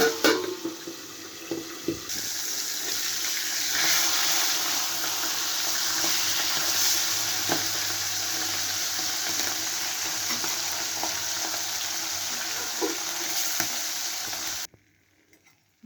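Fish head frying in bubbling oil in a pan while cooking murighanto, giving a loud, steady sizzle and crackle that cuts off abruptly near the end as the pan is covered.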